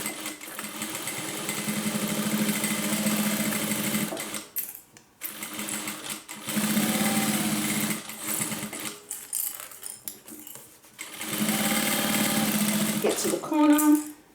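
A domestic sewing machine stitches a crossbody handbag in long steady runs broken by brief pauses at corners where the needle is left down and the fabric is turned, heard close and loud.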